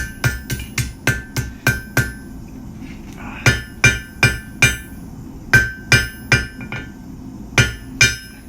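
Ringing hammer blows strike hot steel on an anvil while straightening a forged J hook taper, coming in quick bursts of four to six sharp metallic hits separated by short pauses, close and loud with no talk.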